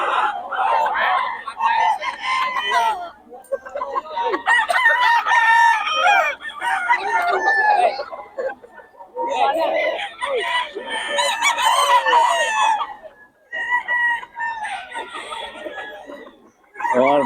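Boston Sweater gamecock roosters cluck and crow close by in repeated bursts, with overlapping fowl calls and brief quiet gaps between them.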